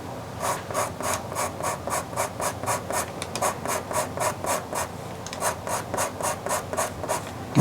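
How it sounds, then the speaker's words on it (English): A blending stump rubs soft pastel into paper in a crashing-wave drawing, producing rhythmic close scratchy strokes, about two per second, steady and alone. "If you want to rub it in, you can rub it in with that stump."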